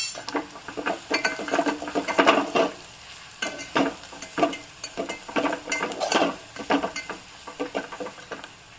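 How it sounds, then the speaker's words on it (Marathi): Onion with a garlic-coconut paste sautéing in a pan, a close sizzle broken by frequent bursts of spatula scraping and stirring, busy and uneven throughout. "आता हे सर्व साहित्य कांदा आणि लसूण खोबरं सुद्धा छान परतून झालेलं आहे"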